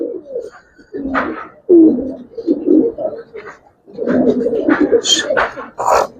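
Giribaz and coloured pigeons coo in a loft, low repeated rolling calls close by, mixed with someone talking and other voices.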